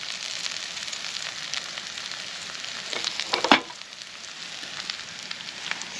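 Steady, crackling sizzle of wild asparagus frying in a pan outdoors, close up, with a brief louder burst of spitting midway.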